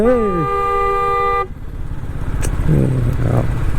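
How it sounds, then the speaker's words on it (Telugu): A loud, sustained car horn blares for over a second, then cuts off, leaving engine and road noise with a voice in the background. "హారన్ కొట్టుకుంటా రావాలి మీరు"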